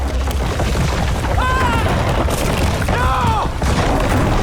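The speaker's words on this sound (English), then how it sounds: "an explosion turns the mine into a collapsing death trap" A mine explosion and cave collapse in the video game Mafia: The Old Country, heard as a loud, sustained rumbling roar. Tonal voices or cries rise briefly over it twice.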